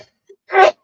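A single sharp sneeze bursts out close to the microphone in a quiet room, brief and loud, preceded by a faint small vocal sound.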